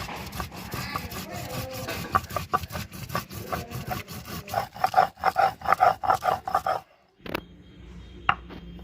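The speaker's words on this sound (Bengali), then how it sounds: "এই যে জিরেগুলো বেটে নেব" Cumin and coriander seeds ground together on a flat stone with a grinding stone, a steady run of rough rasping strokes with gritty scraping and knocks, close and moderately loud, fading to a pause near the end.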